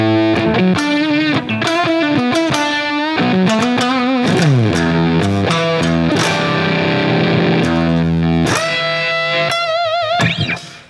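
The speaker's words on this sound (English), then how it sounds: "So the first thing is the fuzz effect." Electric guitar played through a simulated classic Arbiter Fuzz Face pedal for licks: loud, thick fuzz-distorted notes and bends ring out continuously, close and alone, fading at the very end.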